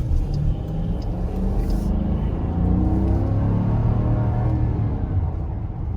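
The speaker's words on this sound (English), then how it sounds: "Here are some more quarter throttle accelerations." A 2021 Dodge Durango R/T's engine under quarter-throttle acceleration, a steady low rumble that swells and holds as the vehicle gains speed, heard from inside the cabin with no talking.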